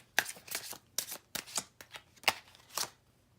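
Tarot cards shuffled and dealt by hand in close, quiet surroundings, with a run of crisp riffling bursts and light slaps spaced irregularly across a few seconds, no voice heard.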